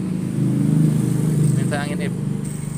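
A motorcycle engine with a worn, damaged crankshaft bearing idles steadily close by, its low rumble carrying a rhythmic knocking throb, with a voice speaking briefly over it.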